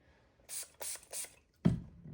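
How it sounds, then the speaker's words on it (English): Three quick hissing spritzes of rubbing alcohol from a spray bottle, close by, followed by a dull thump. "give it a spray"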